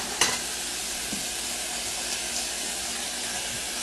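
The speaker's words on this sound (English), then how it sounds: "Then I'm going to get some water, which I would say is about a cup of water, and get that left over and pour that in as well." Water is poured into a hot pot on a stovetop and sizzles, a steady loud broadband hiss that carries on throughout, with a sharp knock near the start and no talking.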